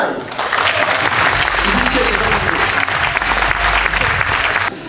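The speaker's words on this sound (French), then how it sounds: "je vous demande de l'applaudir, Cédric Biscay" A live audience at the Monaco Magic 2017 event breaks into loud, sustained applause welcoming guest Cédric Biscay, close and continuous, with some crowd noise and voices mixed in.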